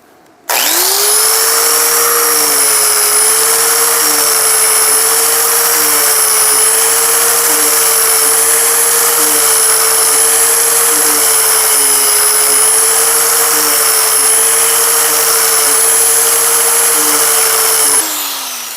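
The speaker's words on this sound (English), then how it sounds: "put a 120 grit on a sanding pad on my angle grinder, and I'm going to give that a whirl" An angle grinder with a 120-grit sanding pad whines at a steady high pitch on a ball peen hammer for about seventeen seconds, loud and close, starting and stopping abruptly.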